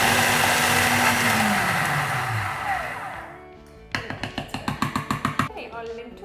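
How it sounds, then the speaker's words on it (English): A food processor whirs loudly as it blends dry ingredients for a vegan lentil loaf, then its motor winds down with a falling pitch, followed by a quick run of rhythmic taps and knocks. "We're now going to put all the dry ingredients into our processor and just process probably for about 10"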